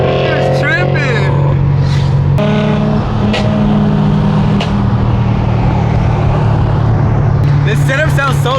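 A loud cammed Corvette Z06 engine runs and revs close by at a cars and coffee meet, its rumble swelling and dropping while people talk over it.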